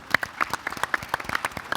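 Applause from a conference audience at an events-industry gathering in Portugal, sounding as scattered, fairly sparse individual claps at close range with an uneven rhythm, modest in volume and without voices.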